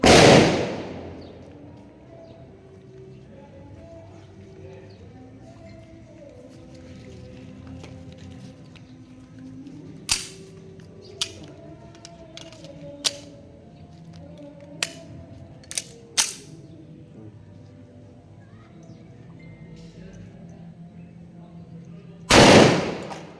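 About eight sharp, distant gunshots crack one at a time at irregular intervals over a low background hum, bracketed by louder bursts at the start and end.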